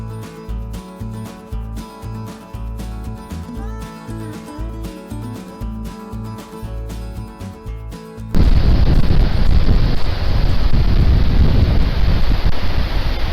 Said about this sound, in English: The wind is blowing right off the lake